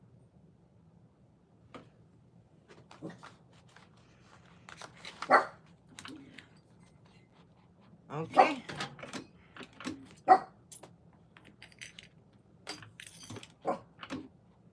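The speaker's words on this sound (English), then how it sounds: "What you barking at?" A dog barks in short scattered bursts, some single yips and some quick clusters, mixed with jangling and handling noises nearby; a voice speaks briefly.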